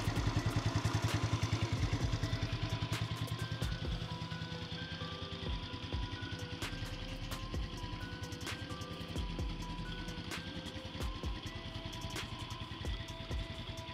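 Yamaha Mio carburetor motorcycle engine idling smoothly, a steady low rhythmic putter with some light mechanical clatter and occasional ticks, fairly close and quiet, with no talking.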